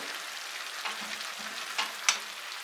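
Meat and pearl barley porridge simmers and sizzles softly in a deep frying pan, with a couple of light clinks and scrapes as it is stirred.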